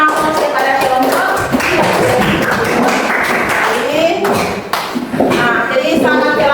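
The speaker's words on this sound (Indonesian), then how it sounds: "Kita berikan aplaus kepada kelompok." A classroom audience gives a presenting group a round of applause: dense, loud clapping from many hands fills the room for several seconds and dips briefly near the end, with a voice faintly heard under it.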